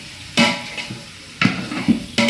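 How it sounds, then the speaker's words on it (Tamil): Spoon scraping and clanking against a pot while stirring chicken biryani masala for a restaurant-style batch, three sharp metallic knocks with softer scraping between them, close and alone. "ரெண்டு மூணு நிமிஷம் நல்லா கிண்டி விட்டோம்"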